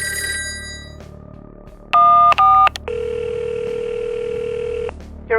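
A telephone being dialed: bursts of paired dialing tones, then a long steady line tone that holds for about two seconds, clear and close with no talking.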